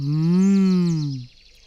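A storyteller's voice imitates an ox mooing, one loud, drawn-out low moo that swells and then fades away after about a second.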